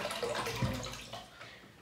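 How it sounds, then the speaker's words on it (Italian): Boiling water pours into a basin with a splashing, gurgling rush that swells early and then tapers off to a quieter trickle, close up in an indoor workspace. "la riempiamo di acqua bollente"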